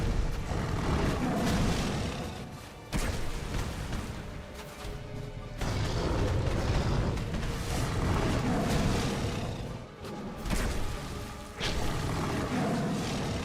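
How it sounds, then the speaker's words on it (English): Loud rumbling booms and crashing roars from Dark Souls 2 combat, a dense, sustained wall of sound with brief drops near 3, 5.5, 10 and 11.5 seconds, heard alone without talk. "Oh, explosion."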